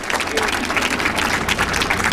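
A crowd at a 2010 PBA team bowling shootout in Jackson, New Jersey, claps in a dense, even burst of applause lasting a couple of seconds, with no pauses.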